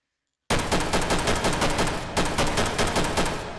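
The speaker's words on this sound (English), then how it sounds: "Anyways, that was the iconic MP44 or 43 or Sturmgewehr 44." StG 44 rifle firing in the H3VR video game: after a brief silence, two rapid automatic bursts of close, loud shots in a steady rhythm, with a short break between them.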